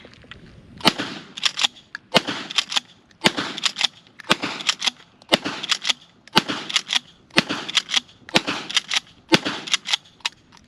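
Mossberg 590S Shockwave pump shotgun firing at a range: a steady run of about ten loud, sharp blasts spaced roughly a second apart, each followed by clattering pump-action and shell-handling noises, with no talking.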